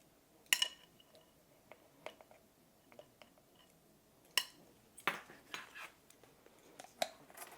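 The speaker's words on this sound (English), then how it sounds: "mix all that together" Dry ingredients for zucchini bread, including baking soda, salt and cinnamon, being stirred in a bowl, with sparse light clinks and scrapes of a utensil against the bowl, close and quiet.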